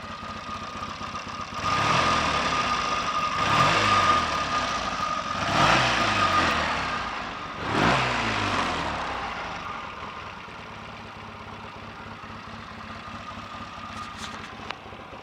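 A Triumph T140 motorcycle engine, just kick-started with no throttle, turns over in four loud surging bursts before settling into a steady, quieter idle that runs on alone to the end.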